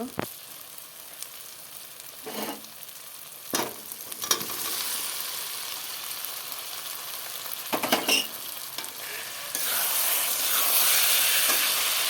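Potatoes frying and being stirred in a spiced tomato masala for a katla fish curry, steady sizzle with several sharp scraping stirs, then a louder bursting hiss near the end as the potatoes go in; no talk.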